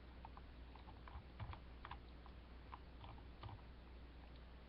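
Quiet computer keyboard typing and clicking, a few scattered soft key taps and clicks over a low steady hum.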